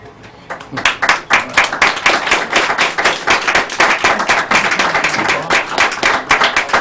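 Clapping from a small group after a conference talk about the FBI, with individual claps clearly separable in a loose, uneven rhythm. It starts suddenly and continues steadily at close range.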